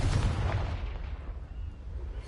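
A Confringo blasting spell explodes in Hogwarts Legacy, a heavy, rumbling boom that hits loudly at once and then rolls and decays over about two seconds.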